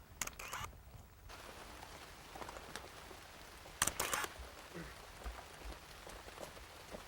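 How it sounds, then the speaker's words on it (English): Rain falling on leaves in a flower garden, a steady soft patter with a few louder splashy bursts near the start and around the middle, no voices. "you got the rain you asked for"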